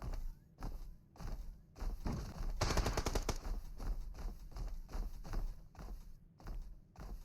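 Rapid gunfire from a light machine gun in PUBG Mobile on the Livik map, bursts of shots repeating steadily with a dense stretch of fire in the middle, fairly close and loud without talk.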